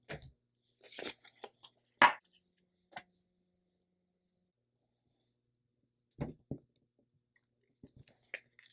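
Cut vinyl being weeded, its backing peeled away by hand: scattered short crackling tears and crinkles come in small bursts between quiet gaps, close and soft, with no voices.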